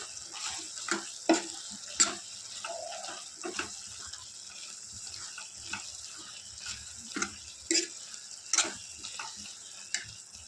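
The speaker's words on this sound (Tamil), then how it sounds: "சாம்பார் பவுடர் சேர்த்துட்டு நல்லா மிக்ஸ் பண்ணி விட்டுக்கலாம்." A spoon scrapes and stirs through a pan of capsicum and tomato gravy as sambar powder is mixed in, with repeated sharp clinks over a low, steady sizzle; close by, with no talk.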